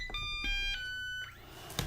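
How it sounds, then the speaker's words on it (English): Censor beeps used to block expletives: a series of steady electronic tones, several distinct beeps at shifting pitches in quick succession, clear and up front over a low background hum. "Those are the beeps that I'll use to block your expletives earlier"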